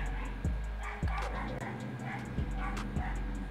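Several dogs barking in short yips and woofs, a few sharp barks spaced through the clip, fairly close, with faint talk underneath.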